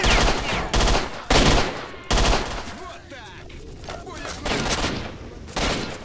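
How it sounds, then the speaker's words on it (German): Rapid gunfire from S.T.A.L.K.E.R.: Shadow of Chernobyl, in a firefight with bandits at a garbage dump, comes in loud repeated bursts with brief gaps, and a quieter stretch in the middle. "Ich rotze hier die Munition aus, als hätte ich unendlich viel."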